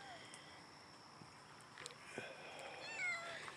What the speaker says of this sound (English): Sandy Socks, Muggsy, a couple of black cats